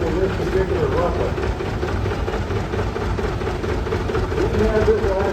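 An 1892 Russell steam traction engine runs in a grand parade at a steam-up show, giving a continuous low mechanical rumble with steady chuffing texture. Background crowd noise accompanies it, and a voice may be faintly present.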